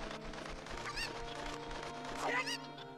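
Chicken (cucco) squawks and clucks from Zelda Ocarina of Time, a few honking, wavering calls over a busy game music and effects backdrop, fairly quiet overall.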